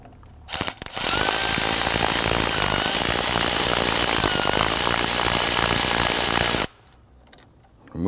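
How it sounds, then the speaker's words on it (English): A power tool with a T25 Torx bit removes a plastic clamp screw on a 2009-2017 Volvo XC60 AC suction hose. It runs in one loud, steady, high-pitched whir for about six seconds, then stops abruptly. "We want to go ahead and loosen and remove the screw."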